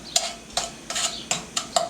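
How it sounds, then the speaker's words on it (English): Sugar dropped into hot oil in a pan for a cabbage and ground turkey stir fry, giving a steady close sizzle broken by several sharp scraping or stirring hits spaced roughly every half second. "So once the oil's hot, I'm going to put the sugar."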